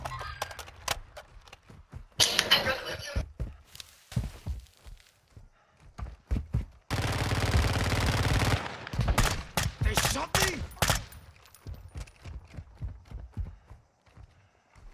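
Gunfire in Call of Duty Modern Warfare 2 (2022), scattered sharp shots and a sustained loud burst of automatic fire among thumps and footsteps.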